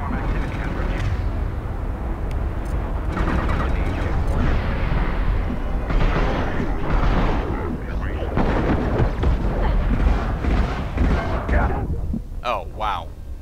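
Enemy cannon fire in Mass Effect 2 on Insanity difficulty: a dense, loud barrage of heavy booming blasts and rumbling bursts that runs almost without a break, with a voice heard through the din.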